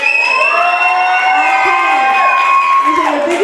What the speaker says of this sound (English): people who are on Vijay's team, cheer now